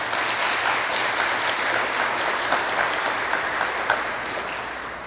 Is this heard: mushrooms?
no